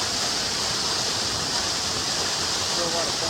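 Waterfall pouring into a pool on the road to Hana in Maui, a steady, loud, broadband rush of falling water that fills the moment without letup.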